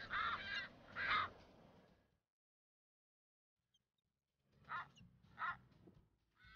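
Harsh, croaking calls of striated caracaras on a remote Atlantic island come in two close bursts, then a long silence, then two more calls.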